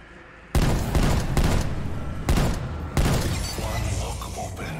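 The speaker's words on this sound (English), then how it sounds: "Assaulting with hand cannon." Hand cannon gunfire in Call of Duty Cold War Outbreak zombies mode: four loud, sharp shots spaced about a second apart, each followed by a booming decay over continuous game noise.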